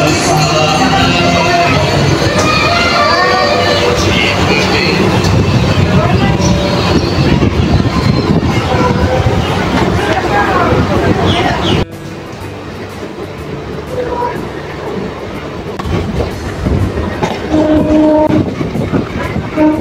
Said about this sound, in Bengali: গঙ্গার পাশ দিয়ে চলছে আমাদের ট্রেন